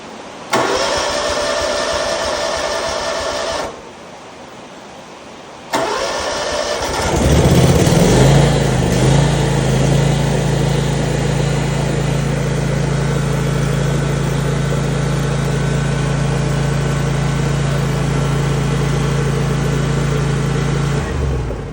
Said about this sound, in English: I tapped the starter last time, and then it just cranked up, started up.